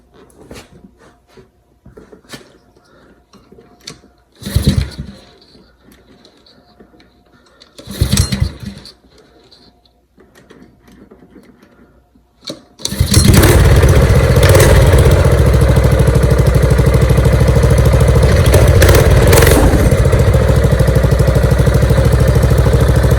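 A mini bike's small engine, with its choke pulled out, gets a few sharp pull-start attempts amid quiet handling noises, then catches and roars into loud, steady running close by.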